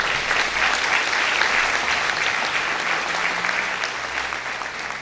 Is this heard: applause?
yes